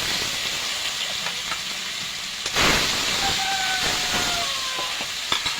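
Fish fries in hot oil with a loud, steady hiss and sizzle throughout. The sizzle surges briefly partway through, and faint crackles and pops run beneath it.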